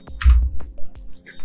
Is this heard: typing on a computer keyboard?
yes